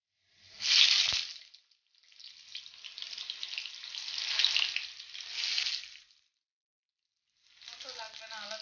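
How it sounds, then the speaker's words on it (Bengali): Onions sizzling in hot oil for chicken biryani, a loud hiss that swells, drops away briefly, returns for several seconds, then stops before a final burst; no talk. "এখন পেঁয়াজ ভাজা হচ্ছে"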